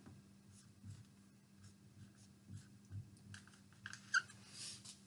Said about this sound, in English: I'll write my question down like I saw it at the beginning